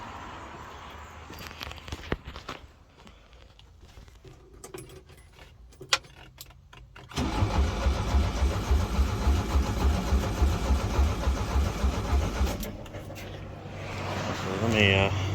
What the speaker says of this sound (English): let's go ahead and crank it over and see what it does